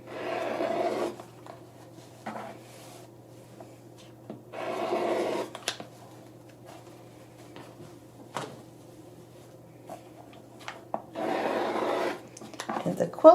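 Scissors cut through quilted fabric pillow pieces in a few short rasping bursts separated by quiet pauses, close and moderately loud with no talk.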